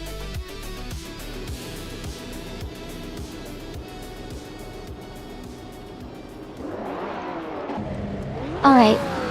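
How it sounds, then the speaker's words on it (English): AI-driven race cars in a racing video game at Autosport Speedway Sprint Track, with steady engine drone under game music, then sharp rising engine revs sweeping upward near the end. "We're about to watch some exciting AI cars race against each other"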